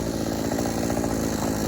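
A new chainsaw runs hard while cutting into an overgrown willow tree in a garden, a continuous loud buzzing engine roar with a slight rough flutter, close and unbroken, no talk.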